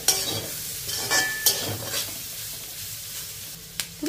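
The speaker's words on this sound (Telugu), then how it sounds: "ఇప్పుడు వీటిని ఉల్లిపాయ ముక్కలు పచ్చిమిర్చి వేగే వరకు ఫ్రై చేసేసుకోవాలి." Onion pieces and green chillies frying in oil in a pan, a steady low sizzle with a few brief stirring scrapes and clinks over about four seconds, no voices.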